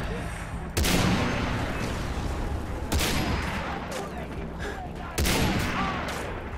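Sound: sniper gunfire in the video game Far Cry 3

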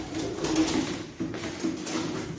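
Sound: pigeons cooing and flying

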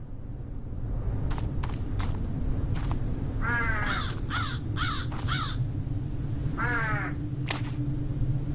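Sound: noisy crow cawing

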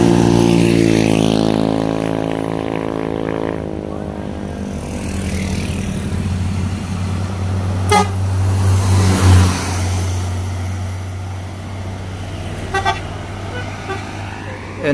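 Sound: NPM intercity bus (Padang–Medan) passing by

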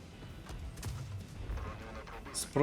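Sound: tank cannon shot in video game WoT Blitz, Pudel tank

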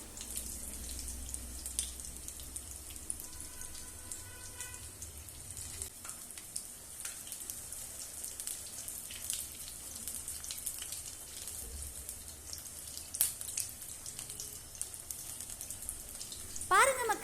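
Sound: urad dal vada frying in hot oil

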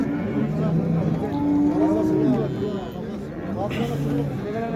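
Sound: calf mooing at livestock market

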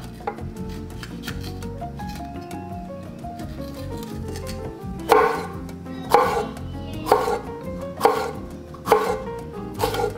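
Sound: knife cutting food for a tuna salad

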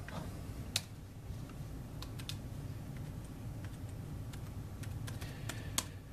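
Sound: typing on a Brydge 12.3 keyboard for Surface Pro

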